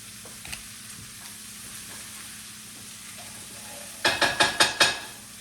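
Shallots and green beans sautéing in a pan over low heat, a gentle continuous sizzle, then a quick run of five rhythmic tossing scrapes of the pan.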